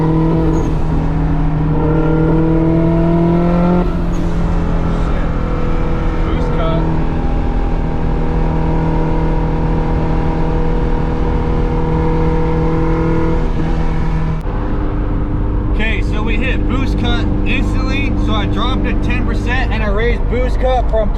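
A built H22 engine in a turbocharged third-generation Honda Prelude revs hard with rising harmonics, then hits boost cut with an abrupt stutter and crackling as the rpm drops, loud and close throughout.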